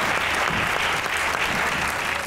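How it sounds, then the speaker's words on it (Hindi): A full, continuous wash of audience applause welcoming a singer onto a Pakistani comedy TV show stage, loud and even throughout its two seconds with no talking. "आपकी भरपूर तालियों में ख़वातीन और हज़रात,"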